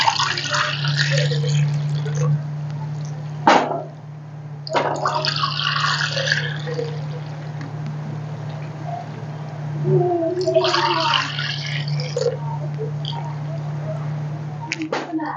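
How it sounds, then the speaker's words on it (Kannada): Water poured into a pot for an Anganwadi milk powder sweet, a few rushing bursts of splashing liquid over a constant low hum. "4 ಕಪ್ ಅಷ್ಟು ನೀರು ಹಾಕಿದ್ದೀನಿ"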